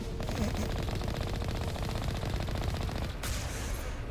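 Rapid automatic turret fire in the video game Mass Effect Legendary Edition, a steady dense rattling stream of shots that runs continuously, briefly dipping before resuming.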